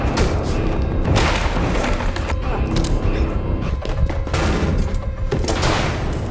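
A rapid burst of loud gunfire from a movie scene, shots cracking and thudding close together over a dense, noisy background.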